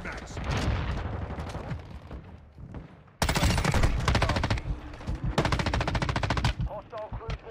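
An M13 rifle fires in Call of Duty: rapid sustained automatic bursts, close and loud, after a stretch of quieter game noise and distant shots, with someone talking partway through.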